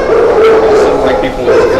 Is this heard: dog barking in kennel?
yes